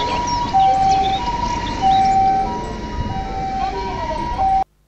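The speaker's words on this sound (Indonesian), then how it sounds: "Mobil ambulan." Thin electronic siren from a toy ambulance wails in repeating high-low tones over a buzzing motor, close by, ending abruptly.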